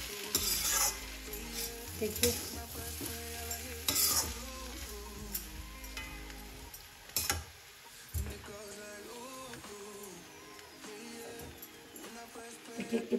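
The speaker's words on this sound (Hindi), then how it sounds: "इसको मैंने सिम करके एकदम छोटे चूल्हे पे रख दिया भूनने के लिए।" Green peas roasting in a pan on a low flame for matar nimona, a soft continuous sizzle with occasional stirring scrapes and clinks while someone speaks briefly.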